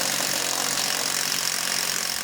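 A power tool drives a 10mm socket to back out undershield bolts on a 2019 Jeep, giving a steady, close, buzzing whir that runs unbroken for the whole moment without speech.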